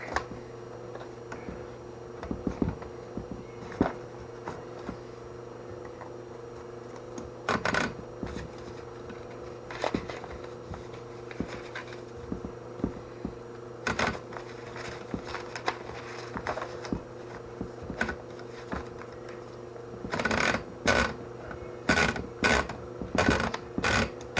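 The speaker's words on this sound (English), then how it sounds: "There's something about Underwood. It's the sound they make." A restored 1917 Underwood No 5 typewriter clacks as keys strike, crisp sharp hits that come scattered at first and then faster in short bursts, with mechanical clicks and a faint steady hum behind.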